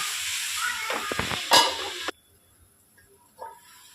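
Grated carrots fry in ghee for gajar halwa, giving a close, lively sizzle with stirring scrapes before a lid cuts the sound to a faint muffled simmer.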